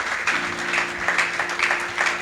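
A church congregation at a family service claps together in a short burst of applause, a dense, moderately loud patter with a faint sustained tone underneath and no clear speech.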